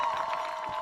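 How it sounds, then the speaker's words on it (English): A football crowd in the stands cheers and applauds the Morris Hills Marching Band, a steady wash of clapping and voices heard from a distance, brief and continuous. "let us rise together and stand and applaud in ovation"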